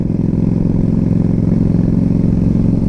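A deep, steady engine rumble from a Yamaha XVS 1300 Custom cruiser motorcycle idling at low revs, loud and close, with a lumpy, throbbing pulse and no talking.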